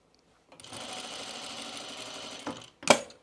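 A sewing machine top-stitching blouse pieces runs in one steady close burst of rapid needle chatter for about two seconds, then stops with a couple of sharp clunks.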